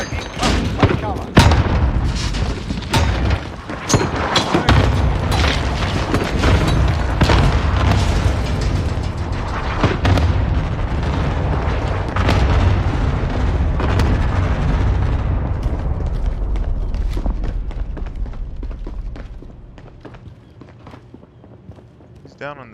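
Cluster frag strike in a first-person shooter video game: a dense, continuous barrage of booming explosions and gunfire, loud and sustained for about twenty seconds before easing off, with game voices and players talking over it.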